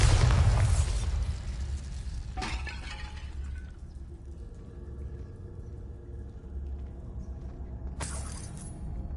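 The Bombarda explosion spell in Hogwarts Legacy goes off with a loud, booming, shattering burst at the start, then a crackling debris tail and a second sharp crash later, without speech.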